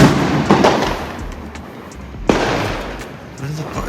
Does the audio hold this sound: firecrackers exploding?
yes